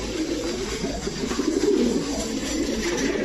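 A male pigeon coos low and continuous at close range amid other birds at a pigeon market, with a steady hiss and murmur of surroundings behind it.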